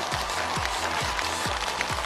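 Studio audience applause on a Chinese TV game show, steady broadband clapping throughout, with a rhythmic thumping beat running beneath it.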